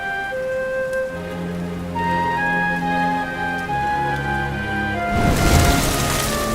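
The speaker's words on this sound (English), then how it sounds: "Looks like the rain's dying down." Rain falls in Dragon Quest XI as a soft hiss beneath sustained musical tones, then swells into a louder, fuller downpour near the end.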